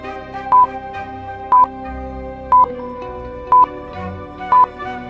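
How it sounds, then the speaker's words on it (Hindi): Five evenly spaced, short, loud beeps sound as phone number buttons are pressed, each tone clear and identical, over a soft background music bed. "मेहुल फोन नंबर के बटन प्रेस करता है"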